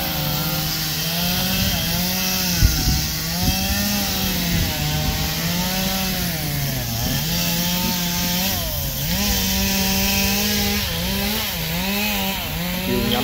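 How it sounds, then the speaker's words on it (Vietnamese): A chainsaw cuts through a huge mango tree, its engine whining loud and close in a continuous drone that rises and dips in pitch as the blade bites into the wood. "xem chú mình cưa cây xoài siêu to khủng lồ như thế nào"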